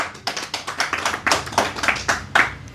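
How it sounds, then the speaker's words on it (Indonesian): A crowd gives a short round of applause: irregular, fairly close hand claps that overlap and keep a brisk, uneven rhythm for a few seconds. "tepuk tangan"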